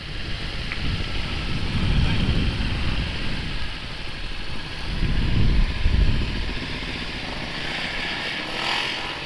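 Motorcycle engine running low and steady during a casual ride, with two swells of louder rumble and steady wind noise, no talking.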